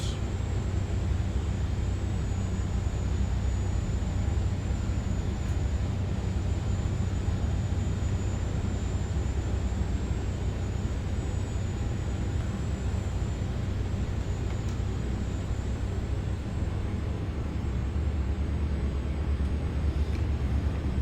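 An Airbus A400M military transport aircraft taxis toward the runway, a steady loud engine drone and rumble heard from inside, continuous and unbroken throughout.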